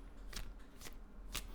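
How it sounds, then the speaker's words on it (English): Tarot cards are shuffled in three faint, quick riffle bursts spaced about half a second apart, soft and close against a quiet background. "While I am shuffling here, I'm going to do a 9-card spread."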